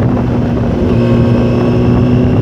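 Steady motorcycle engine drone while riding in Australia, a low, constant hum and wind rushing past the microphone, loud and continuous with no talking.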